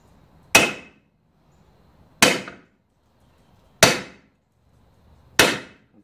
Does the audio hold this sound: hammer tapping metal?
yes